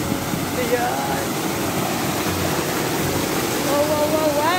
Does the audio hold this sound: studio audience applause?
no